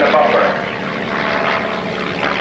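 Aerobatic airplane at the 1989 Red Deer International Airshow, its propeller engine droning loud and steady with a slight rise and fall while a voice speaks over it.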